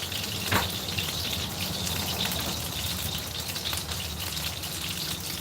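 Food sears in a hot pan with no onions or garlic, a constant close-up sizzle and hiss with a single sharper pop near the start.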